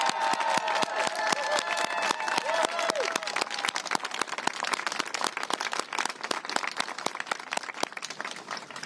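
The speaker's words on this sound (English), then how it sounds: "Let us applaud you." A crowd at a pro-choice rally in Washington state applauds healthcare providers, with dense, crisp clapping that starts under a brief voice and then continues alone, steady and lively.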